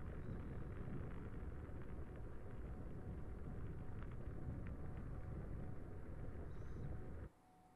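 Deep, steady roar of SpaceX Raptor rocket engines on a long burn, loud and continuous for about seven seconds before cutting off abruptly to near quiet.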